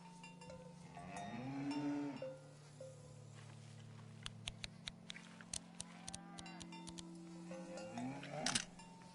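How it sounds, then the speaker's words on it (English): A cow moos in a long low call on a farm, followed by the scattered clanks of a cowbell as it moves, fairly close with faint background. "A beautiful cow named Gorp."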